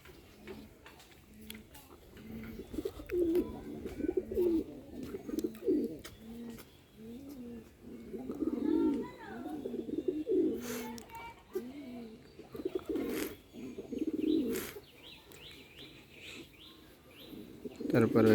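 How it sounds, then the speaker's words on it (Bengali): Rajshahi Giribaj pigeons, including a black one, coo repeatedly in a loft, rhythmic throaty calls recurring throughout at moderate distance, with sharp ticks and clicks scattered between them. "এই যে কবুতর দেখুন, রাজশাহী গিরিবাজ কালোটা কি সুন্দরভাবে ডাকে"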